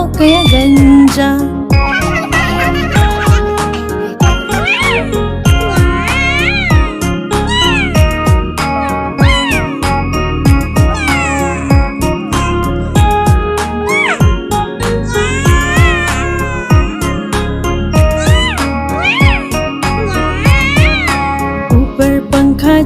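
Cartoon cat meows are repeated throughout a Hindi nursery rhyme, set against a sung melody with bright tinkling music. The meows sit within a dense, steady musical backing from start to end.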